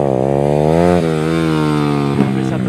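A motorcycle engine revving steadily at a stunt riding school, loud and close with a sustained droning tone that shifts pitch slightly a couple of times.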